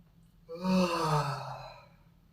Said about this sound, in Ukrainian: І тягнемося.